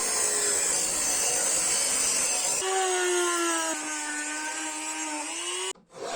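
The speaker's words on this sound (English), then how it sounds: "Rough grinding shape." Rough grinding the outline of a small pocket knife blade on a powered grinder: a steady, loud high whine with a shifting motor pitch, running continuously and ending abruptly near the close.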